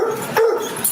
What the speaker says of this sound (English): I've heard that bark before.